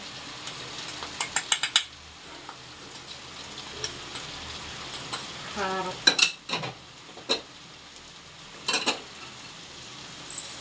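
A spoon stirring prawn and gongura curry in a pan, with quick bursts of scraping clicks against a quiet low sizzle, close up and without talk.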